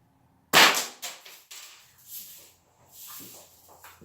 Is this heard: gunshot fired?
yes